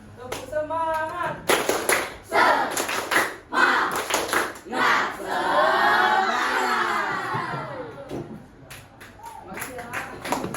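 Students in a classroom stand and do a group clapping chant, with repeated crisp bursts of hand claps interleaved with loud sung chanting by many young voices close by.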